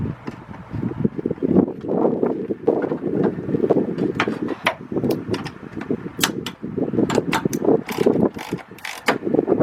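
Ratchet tightening a hose clamp on a 2000 Nissan Maxima engine, a busy run of mechanical clicking and rattling with sharp ticks throughout, fairly close and steady, no talk.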